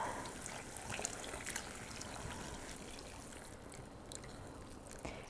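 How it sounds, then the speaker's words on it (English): Milk poured into a pot of creamy soup, a soft steady liquid stream running close and continuous for several seconds without talk. "now I'm going to add my milk and kind of bring it back to a boil"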